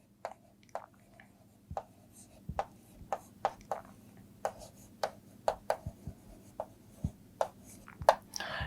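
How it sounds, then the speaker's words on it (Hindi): Chalk or marker taps and strokes on a board during a Class 7 biology lesson, a run of crisp, irregular ticks and short scrapes close by over a quiet low hum. "एक चीज लिख रहा हूं"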